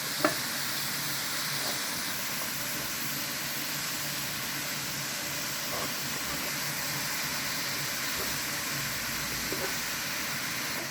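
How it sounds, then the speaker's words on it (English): Vegetables sizzle and fry in a pan while being stirred and mixed, a steady, close crackling hiss with occasional scraping clicks throughout, no talk. "We are carefully mixing them with the vegetables."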